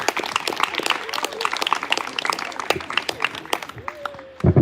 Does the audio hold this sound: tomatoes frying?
no